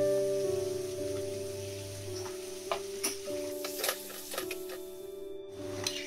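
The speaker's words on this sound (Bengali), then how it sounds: "পেঁয়াজটা একটু ভালো করে ভাজতে হবে" Onions sizzle in a pan for an egg masala curry, a soft steady crackle with occasional ticks and stirring clicks, close and fairly quiet.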